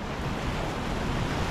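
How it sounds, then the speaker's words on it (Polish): A swollen mountain stream in autumn rushes in a continuous, broad roar, heard close and unbroken with wind-like noise. "rwąca rzeka."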